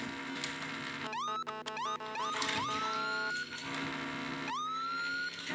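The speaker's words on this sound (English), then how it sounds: "I love the siren on this undercover charger" An undercover Charger police siren in a Roblox game wails close and loud, rising in repeated sweeping tones with brief breaks, then climbing again near the end, no talking.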